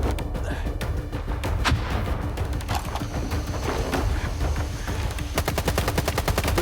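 Firefight in Stalker 2 on Xbox Series X, with rapid automatic bursts and single booming shots cracking close and far, dense and loud throughout, a voice briefly heard underneath.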